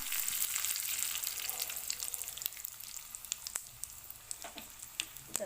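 Mustard seeds, cumin and urad dal sizzle and crackle in hot oil for a tadka, a bright steady frying hiss with scattered sharp pops, close and alone.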